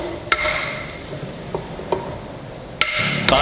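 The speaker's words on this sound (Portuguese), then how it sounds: "Colocar a chaveta. Macetinho de borracha." A rubber mallet gives a few sharp, sparse taps, driving a wooden key into place on an old wooden press being restored. The taps are close and separated by quiet gaps.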